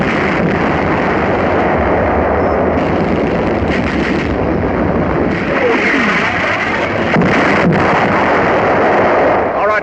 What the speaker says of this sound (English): artillery begins to find the range